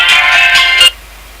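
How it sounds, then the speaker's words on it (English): Incoming-call phone ringtone, loud and close, a bright electronic tone ringing continuously for almost a second before cutting off abruptly into quiet. "Hold on, I'm getting a phone call."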